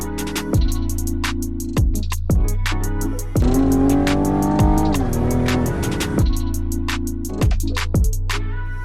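A Cadillac all-wheel-drive car on gravel revs hard and loud up close, climbing through several gear changes with sharp breaks between pulls and a sustained high rev in the middle.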